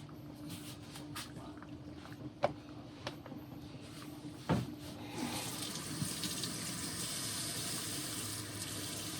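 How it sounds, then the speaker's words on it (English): Water from a tap runs into an emptied tomato paste can while making veggie spaghetti, a steady hissing splash that starts after a few sharp kitchen knocks and clicks and continues to the end. "put about this much water in that can, about that much water"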